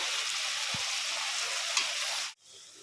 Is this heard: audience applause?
no